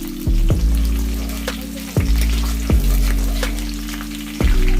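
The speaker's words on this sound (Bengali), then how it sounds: "পেঁয়াজটাকে ভালো করে লাল করে ভাজতে হবে" Chopped onions fry loudly in hot oil for crab do-pyaza, a continuous close sizzle broken by regular knocks of stirring, with no voices.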